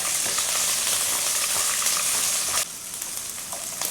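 Tenderstem broccoli stems hit hot mustard seed oil with a loud, dense, steady sizzle that drops to a softer hiss partway through, with faint stirring sounds and no talking.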